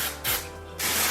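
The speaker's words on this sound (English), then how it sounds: "I take the L'Oreal in red Root Touch Up and give it a little, just a little smush, a little spray right here" Two short bursts of L'Oreal Root Touch Up red hair spray hiss from a can, separated by a brief pause with a faint click, close and loud with no talk.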